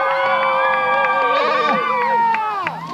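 Crowd at a BMX stunt show in Granada, Minnesota, in October 2000 cheering loudly, with high whoops and shouts rising and falling over a sustained roar.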